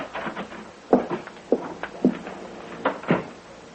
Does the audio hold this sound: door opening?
yes